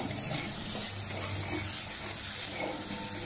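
Mango pieces with red chili powder fry lightly in a pan, a steady soft sizzle with faint stirring scrapes, close and without voices.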